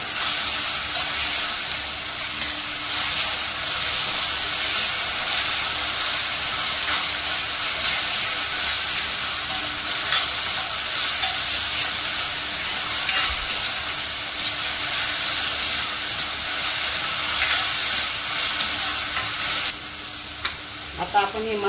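Ground coriander masala paste fries with browned onions in a pan, a loud steady sizzle and hiss running continuously with faint stirring scrapes, close up, dropping slightly at the very end.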